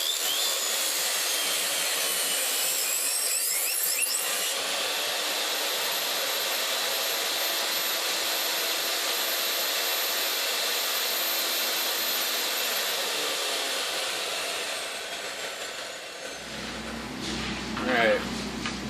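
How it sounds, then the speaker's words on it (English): A table saw notches a wooden frame with a loud, sustained high whine of blade and motor that holds steady, then winds down and stops near the end. "gone through with the table saw and got this all notched out"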